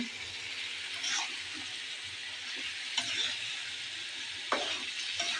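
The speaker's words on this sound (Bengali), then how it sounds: "আর এদিকে মাছ আর পটল একসাথে কষাবো আমি" Fish and pointed gourd sauté in a turmeric, chili and coriander spice paste, giving a steady soft sizzle with occasional stirring clinks and scrapes.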